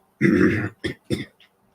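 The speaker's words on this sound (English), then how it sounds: "Trying to avoid coughing sucks." A person coughs and clears their throat during a kumihimo braiding session at a takadai: one longer rough cough, then two short throaty bursts and a faint trailing sound, close and fairly loud.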